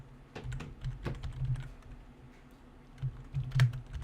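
Typing on a computer keyboard, with scattered soft clicks and a few sharper key strikes near the end, including what sounds like the enter key, close and fairly quiet.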